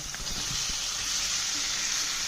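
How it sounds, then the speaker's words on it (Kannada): A fenugreek kadubu mixture with garam masala and turmeric fries in a pan, giving a continuous, even sizzle with faint stirring scrapes underneath, close and moderately loud. "ಅದನ್ನ ಒಂಚೂರು ಫ್ರೈ ಮಾಡ್ಕೊಳಕತ್ತಾರ ಹಾಕೊಳಕತ್ತೀವಿ ನೋಡ್ರಿ"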